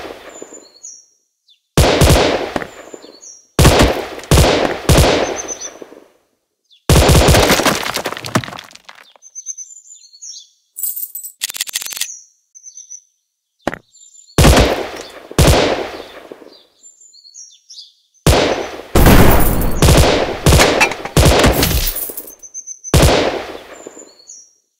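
Gunfire in a running shooter mobile game arrives in sharp bursts of rapid cracking shots separated by quiet gaps, loud and close, with a few brief game chimes between volleys.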